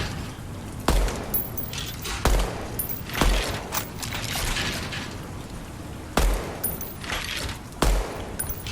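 Gunfire at pop-up firing-range targets in the Deadrop video game, with sharp shots spaced irregularly over a steady background of game ambience.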